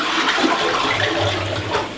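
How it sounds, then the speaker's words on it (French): A toilet flushing up close, a loud rushing and gurgling of water lasting the full two seconds, with bubbling churn toward the end. "Et là si je tire la chasse"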